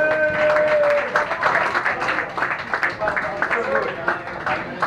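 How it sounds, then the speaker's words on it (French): Audience applause at an award ceremony for an international sport-fishing challenge in Cameroon: dense, sustained clapping from a crowd, with a voice talking over it throughout. "s'il vous plaît, sous vos applaudissements"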